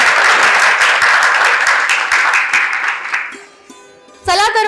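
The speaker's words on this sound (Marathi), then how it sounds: "एकदा जोरदार टाळ्या होऊन जाऊ दे।" Audience applause fills the first three seconds as dense, loud clapping, then fades into quieter sounds and a brief voice at the end.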